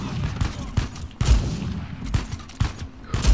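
Gunshots in Uncharted 4: A Thief's End, a rapid series of punchy nearby shots, roughly six sharp cracks spaced unevenly over a few seconds amid game ambience.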